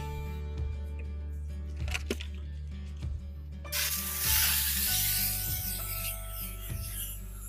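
Foam cleaner sprays in a broad, steady hiss across a car engine bay, rising louder partway through over a constant low running hum, with brief knocks and no talking.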